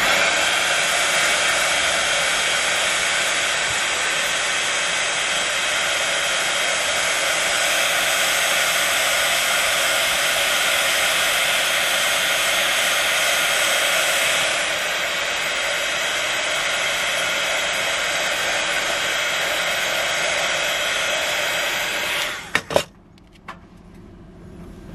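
A hair dryer blows steadily and loud up close as it heats cardboard for a faux-leather stamp album cover, its airflow shifting once midway before it cuts off near the end with a few small knocks.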